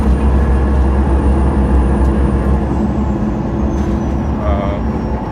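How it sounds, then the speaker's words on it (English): Interior of a MAN NG313 Lion's City diesel articulated bus in Ljubljana: a steady loud low engine rumble with a thin high turbo whistle running above it, slowly falling in pitch. "All you kind of hear is the turbo whistle."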